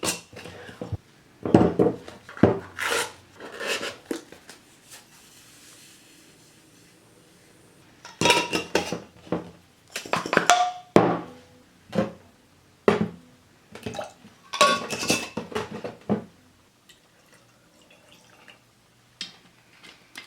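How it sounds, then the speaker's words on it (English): Glass jars holding apple pieces having lids screwed on: clusters of sharp clinks and gritty twisting scrapes in bursts separated by quiet gaps, close and clear, no speech. "go ahead and add the lid and screw it on"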